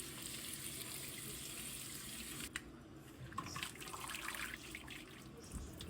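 Tap water runs steadily into a sink while rice is rinsed beneath it, a faint, continuous splashing hiss with small shifts and gurgles as the grains are swirled.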